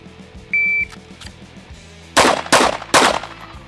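Three loud, sharp pistol shots fired at targets in quick succession, each cracking close by, with a short beep sounding just before them.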